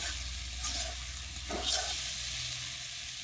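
Chicken fries in oil in a pan with a steady close sizzle, broken by a couple of brief stirring scrapes.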